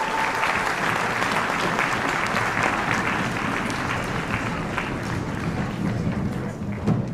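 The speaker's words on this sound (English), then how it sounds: "I'd like to give them a huge round of applause for all they do for us" An elementary school concert audience gives a huge round of applause, a loud, continuous roar of many hands clapping close by, sustained evenly for several seconds.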